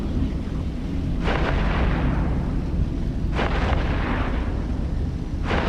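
Heavy weapons fire from a Machariel battleship pounds a Myrmidon ship in the video game EVE Echoes, three deep booming volleys spaced a couple of seconds apart over a constant low rumble.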